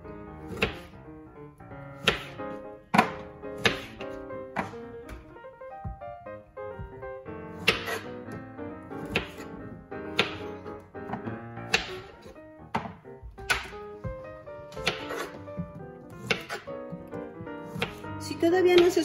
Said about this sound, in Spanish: Nuestra siguiente fruta para el ponche va a ser la guayaba y la vamos a cortar en 4 partes